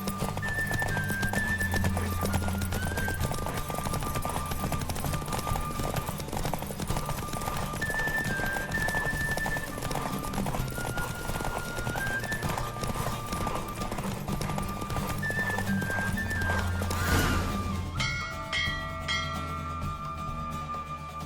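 A horse races at full gallop in The Witcher 3, its hooves pounding out a fast, continuous clip-clop rhythm. A repeating melodic music line plays alongside, and the sound changes near the end as the race finishes.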